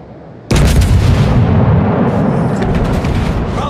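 Battleship main guns on the Soviet Oktyabrskaya Revolutsiya, a tier 5 battleship in World of Warships, open fire in a sudden massive blast that rolls into a sustained loud roaring rumble with crackling echoes.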